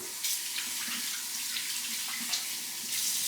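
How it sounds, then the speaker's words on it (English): Hands rinsed under a running kitchen tap after handling beets, a steady close hiss of flowing water with small splashy shifts throughout. "Okay, so I'm gonna rinse my hands off."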